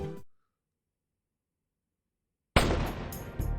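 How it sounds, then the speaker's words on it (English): A single sharp gunshot-like bang goes off in Robotics;Notes DaSH after a long stretch of silence, followed by a loud, dense burst of noise that lingers to the end. "That sounded like a gunshot."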